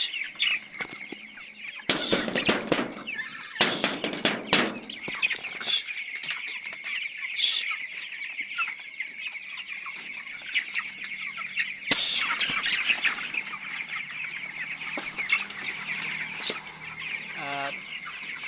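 Chickens on a poultry farm cluck steadily throughout, with bursts of wing flapping, while the birds are fed pellet feed.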